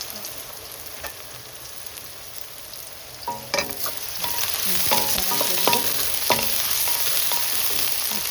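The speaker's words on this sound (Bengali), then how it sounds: "একটু ভাজা ভাজা হয়ে গেলে তখন দিয়ে দেবো শুকনো মরিচ" Chopped onion and garlic sizzle in hot oil in a frying pan, with a steady frying hiss that swells partway through as a utensil stirs and scrapes, giving irregular clicks and taps close by.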